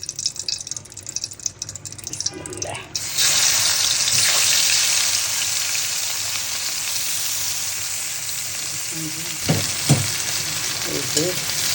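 Shrimp fry in a little oil in a hot wok, starting with some clatter before a loud steady sizzle takes over, with a few stirring knocks near the end.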